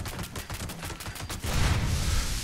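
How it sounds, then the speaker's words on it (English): A handmade rifle fires at super mutants in Fallout 76, a rapid string of close, sharp shots followed by a heavier, sustained burst of overlapping gunfire. "I have just been shooting these super mutants outside here"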